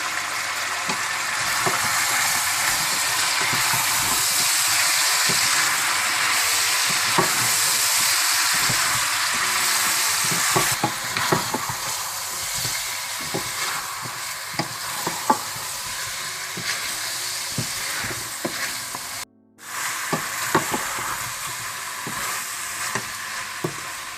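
Steady loud sizzling of coriander powder, cumin powder, salt and garlic in a hot pan, with a spoon scraping and stirring in irregular strokes throughout and one brief pause near the end.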